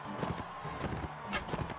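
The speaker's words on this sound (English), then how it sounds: "Stop that horse." Horse hooves in the Mount and Blade: Warband video game, a rapid run of clip-clops close up during a tournament round, mixed with game noise.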